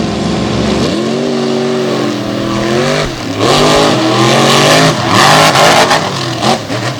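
Trucks launch and race side by side in a championship drag race final at a Renegade event in Greensburg, PA, with loud, rising engine roars and revving that swell and surge across the run with no talking.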